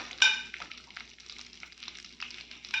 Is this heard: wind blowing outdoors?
no